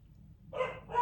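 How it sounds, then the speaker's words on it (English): Two short, sharp dog barks in quick succession, close and clear over a low background hum. "I see the dogs are jumping in"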